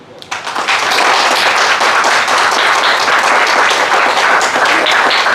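Loud, sustained applause from an audience, dense clapping that starts abruptly and holds steady throughout.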